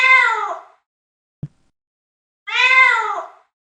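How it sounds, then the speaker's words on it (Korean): A thin, weak cat meowing, two drawn-out plaintive cries separated by a pause with a brief faint knock between them, close and clear against silence. "가늘고 힘없는 울음소리였다. 고양이였다."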